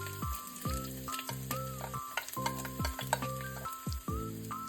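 Ginger and garlic sizzle in hot cooking oil in a pot for chicken feet adobo, a constant crackling fry under repeated scraping and clinking stirs, with a steady tonal hum throughout.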